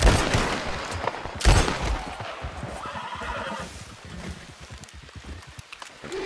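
A horse in the Red Dead Redemption 2 video game whinnies loudly, with a bright rising call near the start amid game noise and shuffling, fading into a rough ambient rumble.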